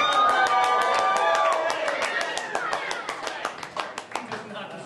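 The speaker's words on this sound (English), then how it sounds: "Does not deserve that much applause." Audience applause at a school assembly with a crowd clapping close and loud, fading into scattered, slowing claps toward the end; a voice talks over the start.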